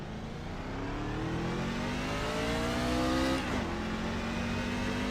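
A NASCAR truck in the iRacing sim accelerates flat out on its first lap, engine note climbing steadily and loud, with a brief gear shift near the end before it pulls again.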